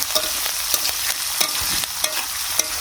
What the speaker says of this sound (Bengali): মুগ ডালটা দিয়ে ভেজে দিই কাঁচামরিচ দিয়ে দিলাম